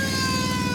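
A wailing siren on a restored WWII vehicle, loud and steady with a pulsing warble throughout the short stretch, no voices.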